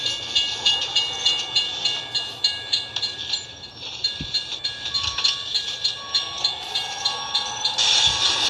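A train passes in the Euro Truck video game with a steady rolling rumble and regular clickety-clack beats from the wheels, growing a bit louder toward the end, with no talk over it.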